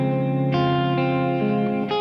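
A sustained electric guitar tone through a Kemper Profiler crystal delay rings with a delay effect and a shimmering higher octave layered above it, changing notes a few times.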